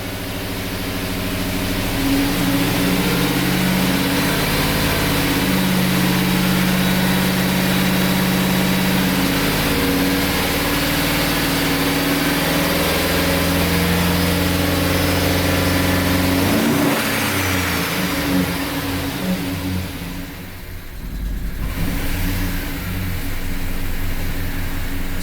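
A large Chevrolet Silverado truck engine, on its first start after reassembly, idles roughly and then revs up and down repeatedly, loud and close, with a heavy low rumble throughout.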